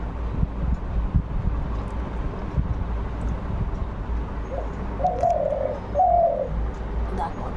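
Two doves or pigeons coo outside a netted window, a pair of short mid-pitched calls close together near the end, over steady wind and room noise.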